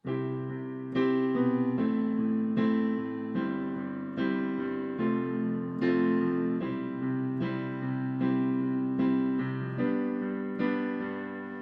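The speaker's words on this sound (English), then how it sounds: "chorus, which I'm just going to call it the chorus progression, or just the chorus, and it's going to sound like this." A piano plays the chorus chord progression of a song alone, sustained chords changing in a steady rhythm with clear attacks, moderately loud and close, with no voices.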